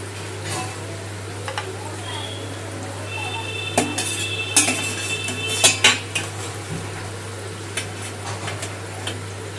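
Metal utensils lift soft, syrup-soaked malpua pancakes out of sugar syrup in a home kitchen, making a few light clinks and scrapes in the middle of the clip over a steady low electrical hum.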